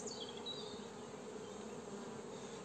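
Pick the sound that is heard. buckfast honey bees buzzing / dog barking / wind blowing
buckfast honey bees buzzing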